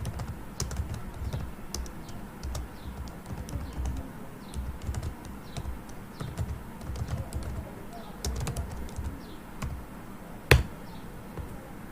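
Brisk, irregular typing of terminal commands on a computer keyboard for a Raspberry Pi 4 setup, close-up key clicks in quick clusters with one sharp louder keystroke near the end.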